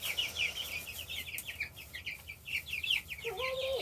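Chickens settled in a coop at night give soft, repeated clucks and murmurs at close range against low background noise, with a slightly louder call near the end.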